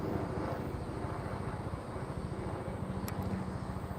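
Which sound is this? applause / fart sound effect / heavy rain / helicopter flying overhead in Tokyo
helicopter flying overhead in Tokyo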